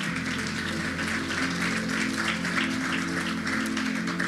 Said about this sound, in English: please give yourselves also a big round of applause for showing up